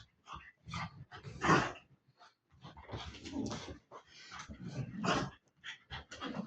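A tired dog pants hard after running and a bath, rapid breathy bursts repeating close by in uneven runs, with a few short pauses between them.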